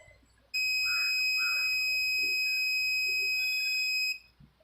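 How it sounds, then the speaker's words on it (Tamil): Continuity buzzer of a multimeter sounding a steady, loud electronic tone for about three and a half seconds while probing a short on a Lenovo E4125 laptop motherboard, with faint background noise before and after. "எஸ், பஸர் அடிக்குது."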